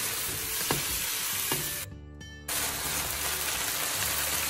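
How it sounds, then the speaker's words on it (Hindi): Chicken cooks in a pan with soy sauce and vinegar, sizzling loudly and continuously, broken by a short lull partway through, with faint stirring clicks. "इसमें सोया सॉस और सिरका डाल के इसको आपने तब तक पकाना है जब तक ये जो दोनों चीजें ड्राई नहीं हो जाती।"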